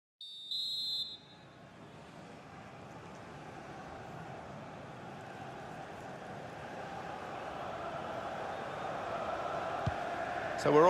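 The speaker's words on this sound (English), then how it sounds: "Well, this is half-time, that's the whistle." In a FIFA 19 online friendly, the referee blows one sharp half-time whistle for about a second. A steady crowd roar follows and slowly swells.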